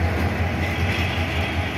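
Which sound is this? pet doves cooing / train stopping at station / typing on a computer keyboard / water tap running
train stopping at station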